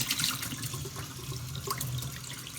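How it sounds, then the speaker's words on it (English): Water from a tap runs steadily into a stainless steel sink during rinsing, a close, even splashing hiss with occasional drips and small clinks. "let me rinse this"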